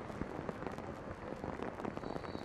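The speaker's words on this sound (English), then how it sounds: "the rain is certainly coming down now." Heavy rain pours down on a women's soccer match in a steady, dense hiss, with scattered sharper patters on surfaces throughout.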